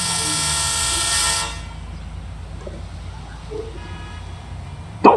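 A loud, sustained train horn in a Roblox train simulator game blares for over a second and cuts off, leaving a low rumbling background with faint scattered noises.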